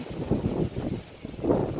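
Strong wind buffets the microphone in steady roaring gusts, swelling and easing, with no voices.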